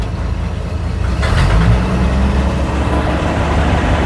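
A 1965 Chevrolet C10 pickup that had long sat in a field runs in first gear, its engine giving a loud, close, low rumble that swells partway through and holds steady.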